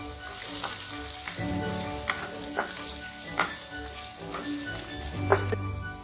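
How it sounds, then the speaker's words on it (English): Ginger, garlic and sliced green chilies fry in a pan for smoky baingan bharta, a steady close sizzle broken by several sharp scrapes and clicks of a spoon stirring. "Roast the ginger and garlic nicely until they are brown."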